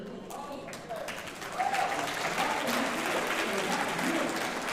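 Crowd applauding at a town hall gathering in Humble, clapping that swells from a quieter start into sustained, loud applause while a speaker's voice carries over it.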